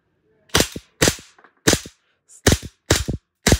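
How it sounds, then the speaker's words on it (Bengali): A Beretta M92FS airsoft gas pistol fires in single-shot mode, giving seven sharp, close pops spaced roughly half a second apart with silence between them and no talk. "দেখেন এটা হলো সিঙ্গেল ফায়ার"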